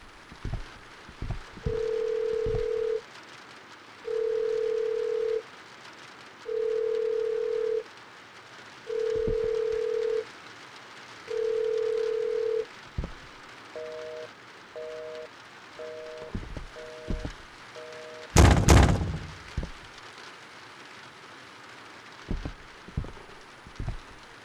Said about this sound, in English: Don't pick up the phone.